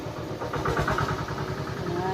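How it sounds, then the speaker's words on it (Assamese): A tractor engine runs close by with a steady, rapid chugging pulse throughout, loud and unbroken, with faint voices in the background. "নাই ট্ৰেক্টৰ মেচিন গৈ আছে"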